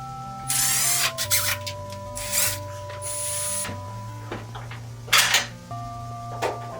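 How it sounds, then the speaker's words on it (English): Screws being removed from a range hood over a kitchen stove, with short whirring bursts from a driver, metallic clinks and scraping, against a steady background tone. "Next, we'll remove the screws holding the hood in place."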